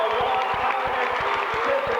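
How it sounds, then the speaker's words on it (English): Rapid rhythmic clapping from a crowd at a 1995 Franklin Knights versus Sharon game, dense and continuous for two seconds with a murmuring crowd underneath. "The applause getting louder and louder"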